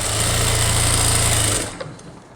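A sewing machine runs steadily while stitching the side seam and sleeve round of a blouse, a loud continuous mechanical whir with rapid needle rhythm that stops abruptly after about one and a half seconds, leaving quiet room noise.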